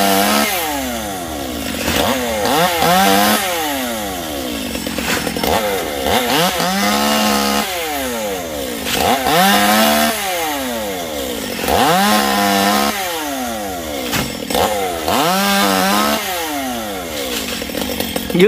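A chainsaw cuts the tops off Dipterocarp (Dầu) trees, its engine revving up and dropping back in repeated cycles, loud and close throughout with no talk.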